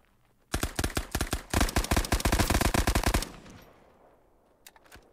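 Loud bursts of rapid gunfire in the video game Resolve, two long automatic volleys back to back, then silence and a few faint distant shots.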